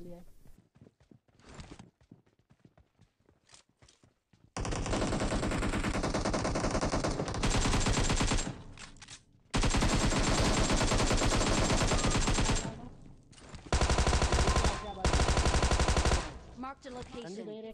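Loud, dense automatic gunfire in the mobile game PUBG Mobile, arriving in long sustained bursts with short breaks after a quieter stretch of scattered clicks and movement.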